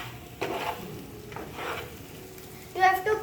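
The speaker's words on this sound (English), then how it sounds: "And now we are mixing it." Egg curry is stirred in a pan with chopped tomatoes and boiled eggs, giving soft scraping and sizzling strokes in short bursts. A voice briefly chimes in near the end.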